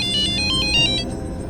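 A phone ringtone chirps in a quick repeated electronic pattern, loud and close, then fades out.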